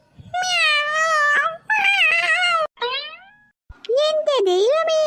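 A human voice imitates a kitten stuck in a tree with four loud, close, drawn-out meowing cries separated by short pauses, the last one wavering in pitch.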